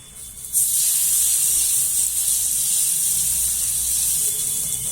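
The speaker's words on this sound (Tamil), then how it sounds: "நம்ம சட்னியை இப்படிதான் தாளிப்பு போடுவோம்." Hot tempering oil poured over freshly ground chutney bursts into a loud, sustained hiss right after a short quiet start and sizzles on steadily.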